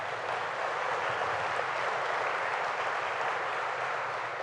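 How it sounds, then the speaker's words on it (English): An audience at a downtown revitalization announcement event in Oswego gives a round of applause, a steady, even wash of many hands clapping at moderate volume for the full stretch, with no voices on top. "I'd like to give Tom in particular a round of applause."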